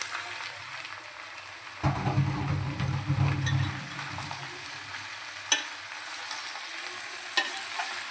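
Boiled jackfruit and potato dropped into hot oil with onions in a kadai, a sudden loud sizzle bursting in after a quiet start, then fading to a steady frying hiss with a couple of sharp clinks.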